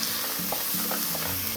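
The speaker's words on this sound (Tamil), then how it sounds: "ஒரே ஒரு வெங்காயம் நம்ம பொடியாக நறுக்குனது சேர்த்துக்கலாம்." Chopped onion frying in oil with mustard seeds and dried red chillies, a steady loud sizzle with a few stirring scrapes close by.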